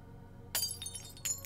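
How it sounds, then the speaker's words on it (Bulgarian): Glass shattering as a scary sound effect: two sharp, bright crashes about three quarters of a second apart, close and loud, after a quiet low hum, with no talking. "И се чупи чаша."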